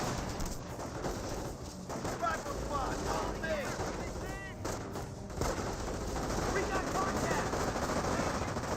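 Rifle fire from a G43 squad in the Company of Heroes video game, steady battle noise with scattered shots and distant rumbling, bird-like chirps over a busy mix.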